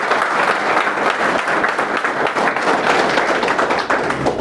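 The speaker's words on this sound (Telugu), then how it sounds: "ఒక్కసారి గ్రేట్ రౌండ్ ఆఫ్ అప్లాజ్" Audience applause after a call for a great round of applause at a stage event, dense and steady throughout, loud and close with no talk over it.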